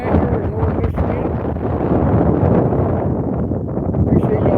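Strong wind gusting across a frozen lake in Lower Michigan during ice fishing, a steady loud buffeting roar against the microphone throughout, with no speech over it.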